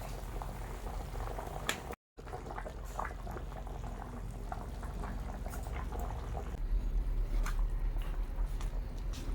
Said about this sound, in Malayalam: ചിക്കൻ കറി റെഡിയായി തിളച്ചു നല്ല വെന്തു